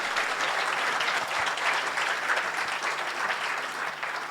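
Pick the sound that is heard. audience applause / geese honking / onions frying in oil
audience applause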